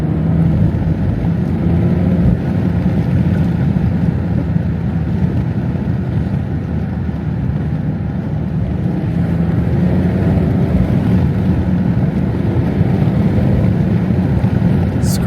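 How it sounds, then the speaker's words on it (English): Constant wind roar buffets the cabin of a 400hp BMW 340i while driving, a loud, broad rushing noise mixed with engine and road rumble, steady throughout with no talking. "I think that's too much noise from the wind"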